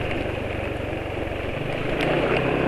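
Honda PCX motorcycle engine running rough with BM1 oil, a steady close mechanical drone with a buzzy, slightly uneven texture and no talk.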